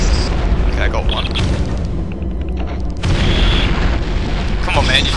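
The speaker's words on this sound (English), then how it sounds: "you took a grenade to the face, just die" Grenade explosion in Turok 2: Seeds of Evil, a loud, sustained booming roar with deep rumbling low end that dips briefly and surges again, with a voice faintly heard beneath.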